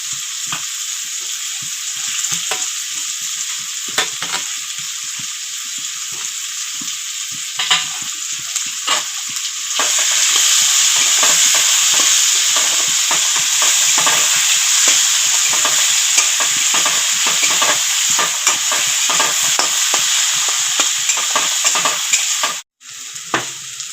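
Chopped onion and garlic sizzle in a pan for a prawn malai curry, with frequent scraping stirs over a loud, continuous hiss that swells midway and cuts off abruptly near the end.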